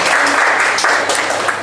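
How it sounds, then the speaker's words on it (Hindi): Loud, sustained audience applause at a Hindi kavi sammelan poetry gathering, dense clapping filling the whole short stretch with no voices over it. "क्या बात है, जोरदार तालियां।"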